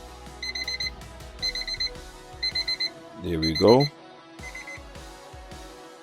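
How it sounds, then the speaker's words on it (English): A kitchen-style timer alarm beeps in quick repeated clusters, fairly close and clear, while a person speaks briefly over it during a scrap-wood resin project. "that's our timer, 5 minutes."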